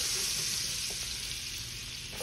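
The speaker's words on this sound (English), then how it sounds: "we're going to saute these onions off" Sliced onions sautéing in oil and butter in a pan, a constant hissing sizzle with faint stirring taps, close and steady, no talking.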